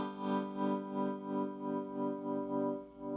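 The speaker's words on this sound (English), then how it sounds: "Go ahead, give it a strum." An electric guitar is strummed through a restored Fender Twin Reverb amp, a quiet sustained chord with a steady, wavering tremolo-like pulse, heard alone without talking.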